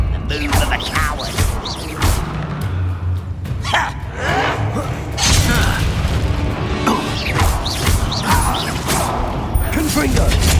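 Confringo blasting spells go off in the Hogwarts Legacy video game, several booming explosive hits and crashes mixed with combat clatter, while characters talk and gasp throughout.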